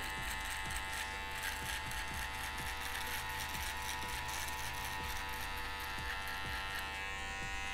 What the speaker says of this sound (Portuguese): E com a própria máquina de acabamento aqui, ó, usando um ângulo de 45 graus, a gente vem tirando essa marquinha aqui que ficou.